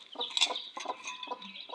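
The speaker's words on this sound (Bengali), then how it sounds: "এই দেখেন আমার আরো কতগুলো মুরগির বাচ্চা উঠছে" Young chicken chicks cluck and peep in short bursts at a home poultry setup, several close calls coming in quick irregular runs with no one talking.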